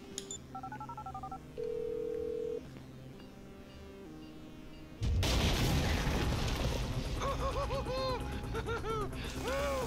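In Grand Theft Auto V, a mobile phone plays a quick string of dialing keypad tones and then a short held beep, followed by a loud booming burst and rumbling game noise.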